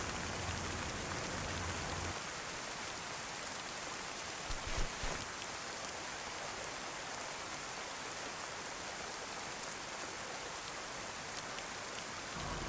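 Steady, hissing rainfall in the woods in the video game DayZ, pattering continuously throughout, with a brief faint knock midway.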